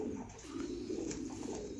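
Pigeons at a pigeon farm in Đắk Lắk, Vietnam, cooing in a low, continuous murmur of overlapping calls from several birds at close range, with no talk.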